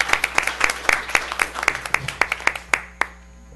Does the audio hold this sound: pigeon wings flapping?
no